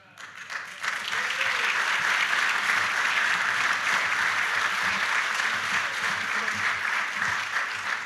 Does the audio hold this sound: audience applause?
yes